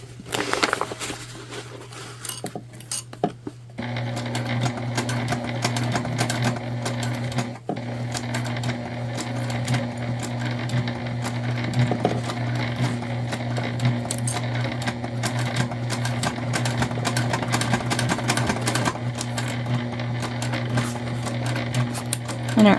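A sewing machine runs steadily for the whole stretch, stitching the second side seam of a book bag tote for a craft fair, its motor hum and rapid needle clatter loud and close, with only a brief pause near the start.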